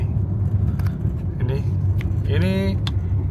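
Car driving through the Freeport smelter project area, its engine giving a steady low rumble throughout, with voices talking inside over it.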